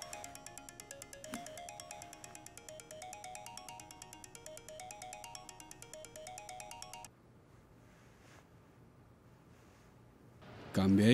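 A mobile phone ringtone plays a bright repeating electronic melody for about seven seconds, then stops, leaving a quiet room before a louder burst of sound at the end.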